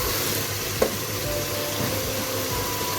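Minced meat keema masala frying in a pan for aloo keema gives a steady close sizzle with stirring scrapes and one sharp clank, continuous and alone without voices.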